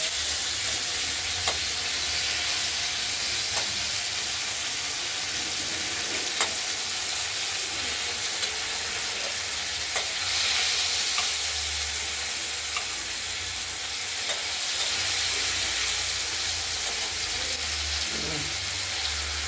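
Tomato and turmeric spice paste frying in oil for katla fish curry, a loud continuous sizzle and hiss close up with occasional stirring clicks, no talk.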